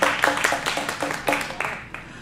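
A few sharp hand claps in an uneven rhythm from a small audience at a live band performance, close and distinct, tapering off at the end.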